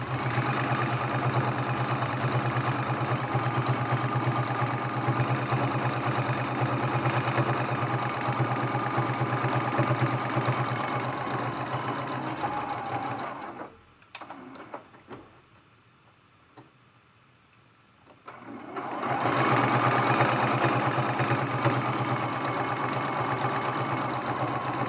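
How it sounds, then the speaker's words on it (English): A sewing machine stitches steadily around the edges of a quilted teapot mug rug, a close continuous hum that stops for a few seconds midway, then picks up again at the same steady pace. "We're going to go ahead and sew all the way around"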